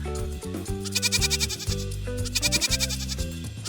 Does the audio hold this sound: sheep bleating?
yes